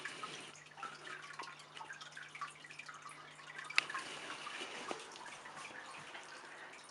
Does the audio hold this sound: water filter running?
yes